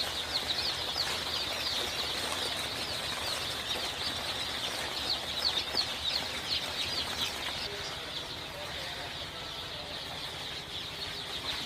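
Steady high chirping of many small Sonali super hybrid chicks in a brooder, a continuous busy peeping chorus with no voices, close and fairly even throughout.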